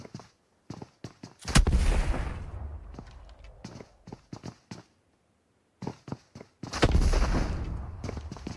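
Bursts of video game gunfire in a squad crossfire during a 4v3 drop fight, with sharp shots scattered throughout and two longer, louder volleys, separated by stretches of near silence.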